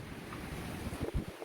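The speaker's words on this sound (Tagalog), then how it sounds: "Tila nagsayawan ang mga puno sa lakas ng hangin dulot ng bagyong Julian sa Ivana" Strong typhoon winds at Ivana, Batanes buffet the microphone in a steady roar with gusty rumbles, growing heavier near the end.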